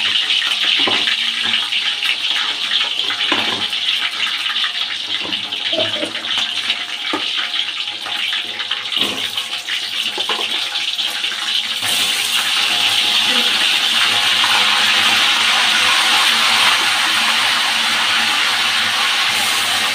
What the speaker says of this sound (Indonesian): Lanjut kita mau goreng ayamnya.